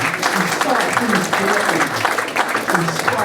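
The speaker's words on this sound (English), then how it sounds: "Give that a round of applause" Audience applause at a memorial lecture on Black British history, a dense, steady wash of clapping filling the whole room with voices mixed in underneath.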